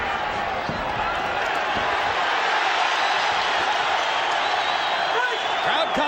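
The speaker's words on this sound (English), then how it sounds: "Crowd comes alive as Barrera, for the moment, gives as good as he takes." An arena crowd roars steadily at the 2003 Pacquiao vs Barrera boxing fight, a dense, loud, unbroken wall of cheering that swells and holds for several seconds.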